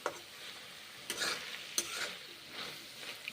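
Drumstick greens and winter peas cooking in a pan, faint soft sizzling punctuated by a few stirring scrapes and light knocks, quiet and close, no voices.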